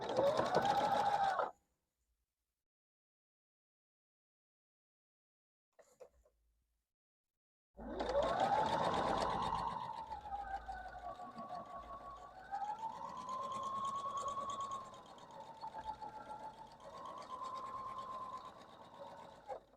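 A sewing machine stitches a quilt block in two bursts, a short run, a pause of near silence, then a long steady whirring run with a slight rise and fall in pitch, close and clear with no talk over it.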